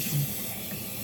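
Water poured into a cooking pot over tulingan fish for sinaing, a soft brief splashing and hiss, quiet and close.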